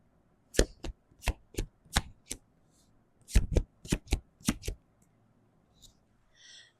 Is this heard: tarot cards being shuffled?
yes